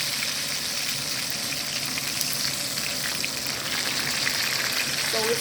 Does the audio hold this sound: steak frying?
yes